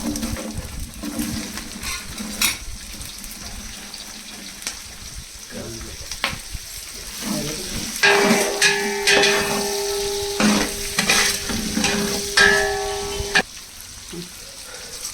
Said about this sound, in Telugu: నెయ్యి వేసుకొని ఇందులో ఇప్పుడు 1 by 1 వేస్తూ వేపుతూ ఉంటాం అనమాట. ఆవాలు, క్యాబేజ్ ముక్కలు వేసేస్తున్నా.